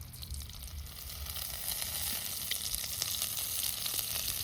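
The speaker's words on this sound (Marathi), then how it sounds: "तेल टाकून चांगलं तळून घ्यायचं" Dried bombil fish fries in oil with a soft, steady crackling sizzle that stays fairly faint and even, with a few small pops.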